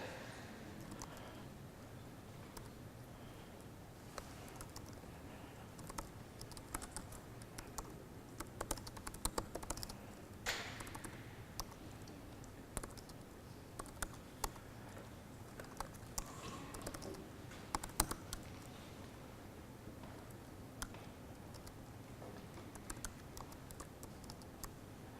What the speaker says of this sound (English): So I ran out a bit of time there with my typing.